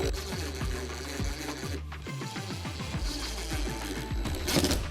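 A power driver whirs and rattles with rapid impacts as screws are driven into wood, in short, repeated bursts, loud and close.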